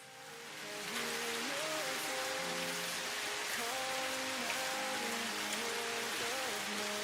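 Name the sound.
rain in the Satisfactory video game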